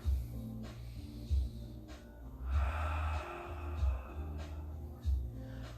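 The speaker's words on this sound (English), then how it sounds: "We'll take 2 more inhales and exhales" Slow, deep breaths drawn in and let out during a yoga class, rising and falling in a steady rhythm over a low hum of background music, with no talking.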